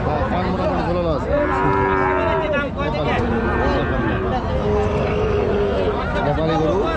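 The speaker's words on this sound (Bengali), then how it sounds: "সুন্দর একটা গরু নেপালি।" A Nepali breed cow with drooping ears at a busy cattle market lows repeatedly amid loud crowd babble and nearby talking.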